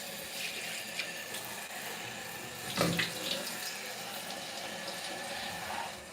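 Tap water runs steadily while hair is rinsed at a sink, a continuous splashing wash with a brief louder gush midway, fairly close and with no talking.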